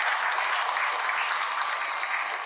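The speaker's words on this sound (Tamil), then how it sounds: "நல்லா கைத்தட்டி அவங்களை உற்சாகப்படுத்துங்க." Even, sustained audience clapping at a New Year special Tamil debate show, a steady dense patter from a sizeable crowd heard on its own.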